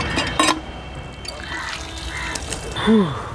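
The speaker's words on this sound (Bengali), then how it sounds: "আগে যে ভাই আমরা একটু মুখ টুক ধুয়ে নিই, চলো।" Water runs from an outdoor tap and splashes in brief bursts as someone rinses their face, a soft trickle and patter close by with a voice murmuring between splashes.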